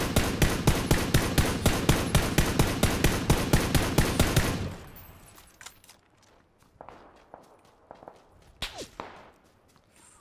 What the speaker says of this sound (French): On me tire dessus au quart.